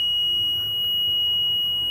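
A multimeter gives a steady, continuous high-pitched continuity beep as a magnet closes a reed switch, heard alone and close.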